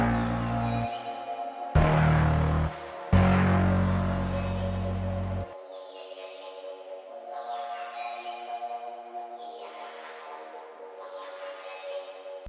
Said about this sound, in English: Next up I put down some animated keys which just follow the root notes of the melody